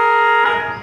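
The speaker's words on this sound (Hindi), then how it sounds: "आज तो भाई एक बार इसका हॉर्न बजा के दिखा दो भाई" A modified Honda Aviator scooter's horn blares in one loud, steady multi-tone blast that rings bright and buzzy, holding for nearly a second before easing off slightly at the end.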